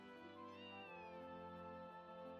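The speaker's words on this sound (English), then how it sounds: "Cat." Cat meowing in the video game Trails from Zero, one drawn-out, rising and falling mew heard faintly over steady game music.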